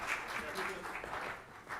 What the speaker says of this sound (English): let's once again have a huge round of applause for this wonderful session